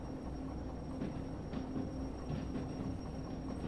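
Locomotives in the Derail Valley railway simulator braking to a controlled stop between two switches, with a low steady rumble, faint metallic rail clatter and a thin brake whine throughout.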